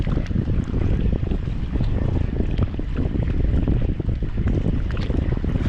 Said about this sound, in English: So this wind is coming in and blowing into this cove here.